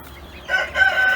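A small silver Sebright rooster crows from close by, a short call rising and holding for about half a second, with faint farmyard hum underneath.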